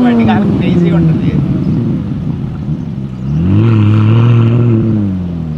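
McLaren 600LT Spider supercar engine revving hard, its pitch sweeping up and down through a quick downshift, loud and close throughout with a voice talking over it.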